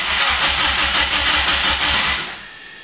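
A car engine with a Megasquirt engine management system is cranked over during a crank position sensor test, a steady rhythmic chugging of the starter turning the engine, loud and close, fading out at the end without firing clearly.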